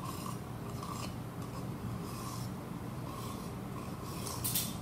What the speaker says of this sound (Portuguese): Pode pegar uma colher e raspar.